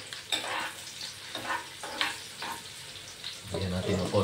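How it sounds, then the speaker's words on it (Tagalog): Beaten eggs frying in plenty of cooking oil with tomatoes in a pan, a steady close sizzle with stirring scrapes, swelling louder near the end. "Nilagay ko na yung itlog ko."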